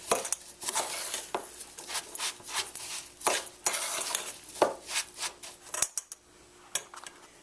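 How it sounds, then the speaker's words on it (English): A spoon mixes cinnamon and a pinch of salt into an apple filling in a bowl, with irregular close scraping and clinking strokes of varying loudness, ending in a quieter pause. "I'm going to mix this around now"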